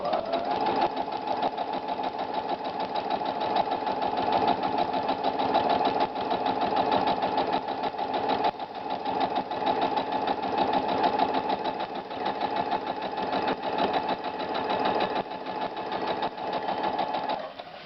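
A sewing machine stitches steadily and continuously at close range while paper-pieced quilt fabric is sewn along a foundation line, a constant fast mechanical whir with no pauses.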